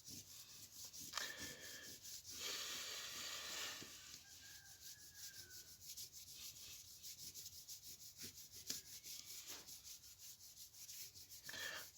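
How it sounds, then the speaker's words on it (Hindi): Dry rubbing of an eraser or duster across a board to wipe away writing, heard in several scratchy bursts with pauses between them, close and fairly quiet. "तो मैं इसको पहले रब करता हूँ।"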